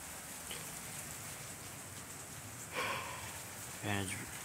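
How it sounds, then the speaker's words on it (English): Light rain begins falling at night as a faint, steady patter and hiss, with a couple of brief quiet voice sounds over it. "It's now starting to rain."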